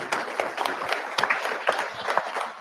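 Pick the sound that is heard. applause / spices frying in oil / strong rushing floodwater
applause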